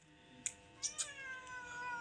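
A cat meows three times in short, high, faint calls close by, with quiet background hum between them.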